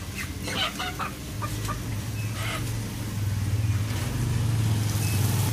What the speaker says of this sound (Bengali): আজকে আমার মুরগি কিনতে চলে এসেছি